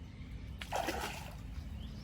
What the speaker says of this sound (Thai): น้ำไหลแรงเลย